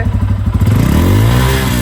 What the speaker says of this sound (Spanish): Hoy vamos a mostrarles cómo le suena el escape a la más completa N250.